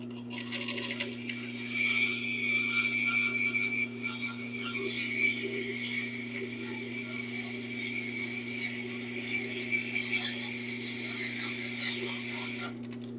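A bandsaw runs steadily while cutting thin wood strips for guitar rims, a constant motor hum with a high whine of the blade through the wood, holding even for the whole stretch.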